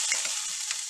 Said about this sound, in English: So that's a sizzle.